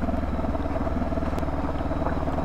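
A Bristol Venturi motorcycle idling on the road, its engine prone to dying at idle. It gives a steady, rough, pulsing chug at close range, loud and continuous, with no voices over it.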